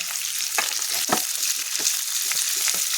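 Onions sizzling in hot oil in a pan for North Karnataka-style sweetcorn upma, a steady close frying hiss with a few stirring scrapes, no voices.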